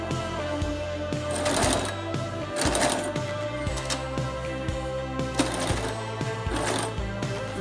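A sewing machine backstitches along a costume hood seam with a rhythmic, close mechanical clatter that speeds up and slows down in short runs, with brief hums and clicks between them.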